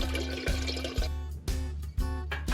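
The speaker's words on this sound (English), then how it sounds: "we fill the kettle with water" Water pours into a kettle at a camp in the Kalahari, a close, gurgling stream that pulses in short surges about every half second.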